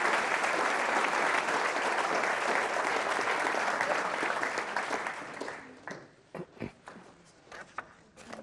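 Loud, sustained applause from a large crowd at a Philadelphia book talk fills the room, then thins out to scattered claps and a few isolated sounds near the end.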